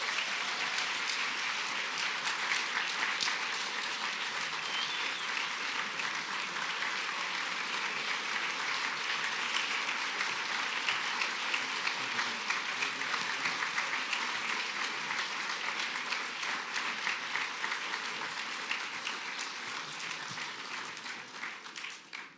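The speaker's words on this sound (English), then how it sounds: "Everybody, please, one more round of applause for Paul." Sustained audience applause for Paul at the close of a performance, a thick, even roar of many hands clapping that carries on steadily for over twenty seconds before tapering at the very end.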